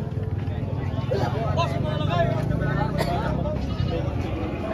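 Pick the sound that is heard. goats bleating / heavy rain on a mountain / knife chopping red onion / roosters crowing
goats bleating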